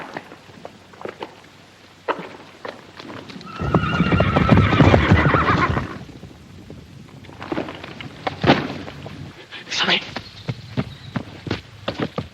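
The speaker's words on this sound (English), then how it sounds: "Damn them horses. Stampeded again." Stampeding horses in a 1941 film scene neigh and gallop; a loud burst of hoofbeats and whinnying swells for about two seconds, surrounded by scattered clip-clop thuds and further neighs, with no talk over it.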